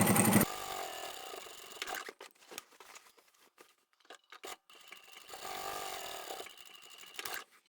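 A sewing machine stitches a pocket on a large reversible scrap-fabric tote bag, running briefly at the start and again for a longer stretch later, with quiet handling clatter in between.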